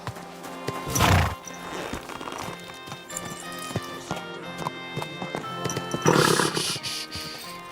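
Horse sounds from Kingdom Come Deliverance II: two loud whinnies near the start and end, with steady hoof clip-clop in between, all under ongoing game music.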